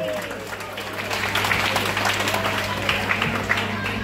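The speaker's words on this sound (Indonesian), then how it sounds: "Kita berikan tepuk tangan dulu untuk yang menerima Krisma hari ini." Applause at a parish anniversary reception in Sarmi for the 84 people receiving the sacrament of confirmation, a dense crowd clapping steadily for about four seconds, with a low steady hum beneath.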